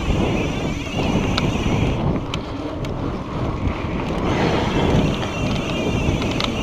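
Wind buffets a microphone while riding a mountain bike along the Deadhorse Crossroads trail segment, a steady loud rushing roar with gusty swells throughout and no talking.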